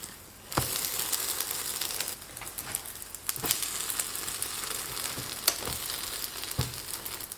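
An egg and potato pancake fries in a covered pan, a steady crackling sizzle that runs throughout with scattered louder pops and crinkles.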